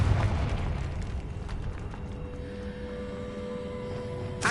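A Confringo fire spell explosion in the Hogwarts Legacy video game: one deep boom that rolls into a long, fading rumble, then a short sharp burst at the end.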